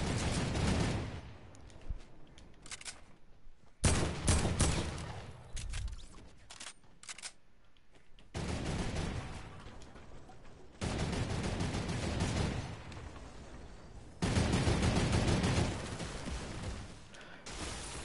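Video game gunfire in Fortnite: loud bursts of rapid shots and blasts in uneven bursts over about eighteen seconds, with brief quieter gaps between volleys and no talking.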